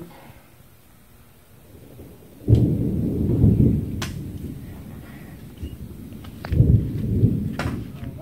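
Thunder rolling during a storm near a garage where a 1966 Ford Bronco is being worked on, two deep rumbling swells a few seconds apart, loud and booming over faint background noise.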